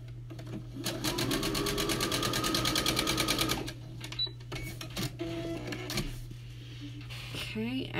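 A sewing machine stitches quilt pieces together in a fast, rhythmic burst of clattering for several seconds, then stops, followed by quieter handling sounds and a low steady hum, with a voice speaking.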